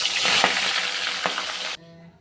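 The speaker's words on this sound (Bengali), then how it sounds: "তেল গরম হয়ে গেছে, মাছ দিয়ে দিলাম।" Catla fish pieces drop into hot oil in a home kitchen and fry with a loud, dense sizzle and scattered crackles that stop abruptly near the end, leaving quiet room tone.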